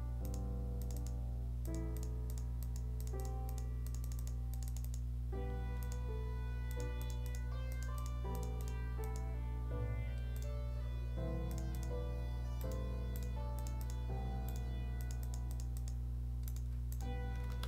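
Rapid computer keyboard clicking sounds in clustered bursts over sustained background game music, the keystrokes faint and steady throughout.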